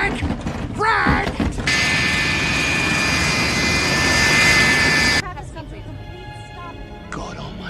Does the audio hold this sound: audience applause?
no